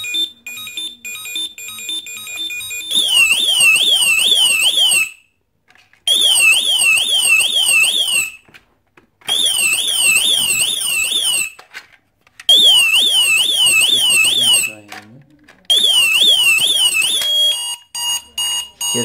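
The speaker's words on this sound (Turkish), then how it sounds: "Şu an açık alarm. Şu an başladı uyarmaya." Electronic alarm of a door lock beeping in repeated warbling bursts, loud and close, with short silent gaps between bursts.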